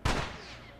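A single gunshot from the video game The Last of Us cracks out sharply and loud, then decays into a short echoing tail.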